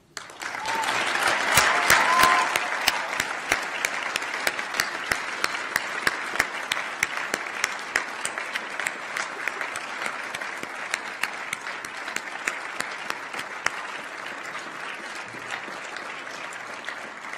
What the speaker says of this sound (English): let's give a round of applause befitting of this occasion